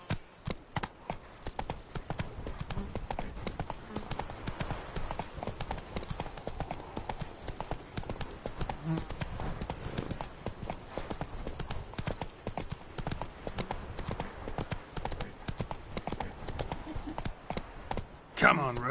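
Roach, a horse in the video game The Witcher 3, clip-clops along in a fast, steady gallop of hooves that runs the whole time, with a voice heard over it.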